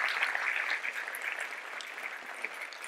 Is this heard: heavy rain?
no